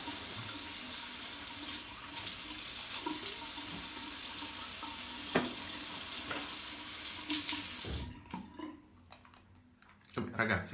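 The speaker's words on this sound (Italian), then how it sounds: "sciacquatina al viso" Tap water runs steadily while the face is rinsed during a traditional wet shave, a continuous close splashing hiss with a few small clicks, fading to near quiet before brief handling noises.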